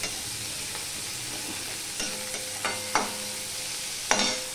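Sliced onions fry in a pan, a soft low sizzle in the background with a few distinct spatula scrapes and knocks spaced apart, no speech.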